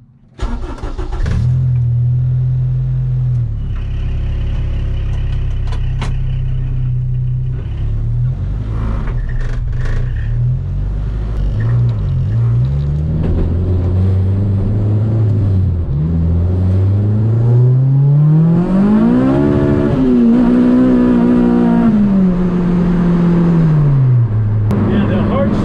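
Honda Civic EG with a K20 engine revving up through the gears, the pitch climbing and dropping at each shift, loud and close from inside the car, with some talk over it.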